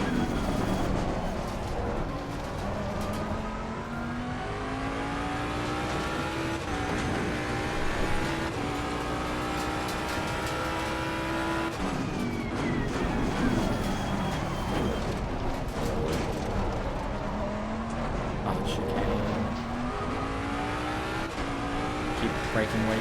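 A race car in the video game Assetto Corsa Competizione runs steadily with its engine note rising and falling through gear changes and some tyre squeal, loud and continuous with a voice talking over it.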